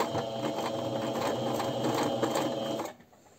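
A sewing machine runs at steady speed while stitching a flat zippered pouch, its rapid mechanical chatter continuous and close for about three seconds before stopping abruptly, leaving near silence.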